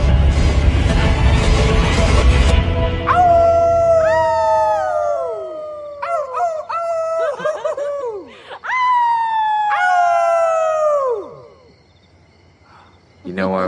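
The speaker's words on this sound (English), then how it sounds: "You know why wolves howl, don't you?" Wolves howling: after a noisy opening, several long rising and falling howls overlap and answer one another for about eight seconds, clear and fairly close, before fading out.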